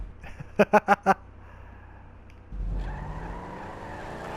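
A race car in a video game on a sky track: four rapid sharp screeches or impacts early on, a quiet lull, then a rising engine roar with tires sliding.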